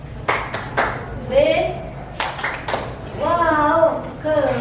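A classroom of students performs a rhythmic clapping chant, a few sharp group claps interleaved with children's chanted voices, the teacher leading, moderately loud and close.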